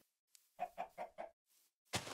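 A Minecraft chicken gives four quick, evenly spaced clucks at close range, followed by a short pause and then a brief noisy burst, with no talking heard.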